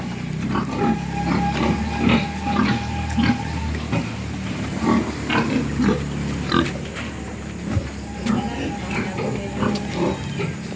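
Grunts from a sow pig on a farm pen come in repeated low bursts throughout, close and fairly steady, with other faint farmyard noise behind.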